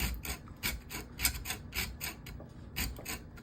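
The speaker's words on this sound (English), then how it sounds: "I do take a chisel and a hammer to it." A series of sharp, bright taps and scraping knocks, roughly evenly spaced, like a metal chisel and hammer striking and chipping at a hard plastic power adapter casing up close.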